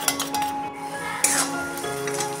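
A spoon stirs green chilli sauce, chilli sauce and soy sauce together in a bowl for chicken chow mein, with soft scraping and a couple of sharp metallic clinks against the dish.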